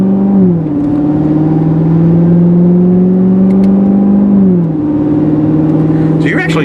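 A 2019 Corvette Z06 exhaust drones loudly from inside the cabin while driving, holding a steady pitch that drops and rises with gear changes, and a voice briefly talks over it.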